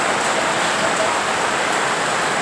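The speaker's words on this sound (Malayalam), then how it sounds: "ഇവിടെ പൊരിഞ്ഞ മഴയാണ് മക്കളെ പൊരിഞ്ഞ മഴ" Heavy rain pours down steadily, a dense hiss that stays loud and even throughout with no voices over it.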